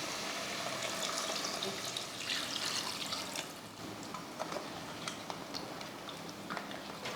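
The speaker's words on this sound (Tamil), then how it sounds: "இந்த டைமில் நம்ம தண்ணி சேர்த்துருவோம்." Water pours into a pot of mutton curry with a soft splashing gurgle, faint and continuous, with a few light clinks near the end.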